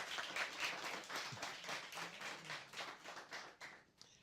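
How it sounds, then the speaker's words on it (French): Audience applause at a French talent show, a dense wash of many hands clapping steadily across the whole stretch, fairly loud and close, fading slightly toward the end with no talk over it. "Et ça s'applaudit, mesdames,"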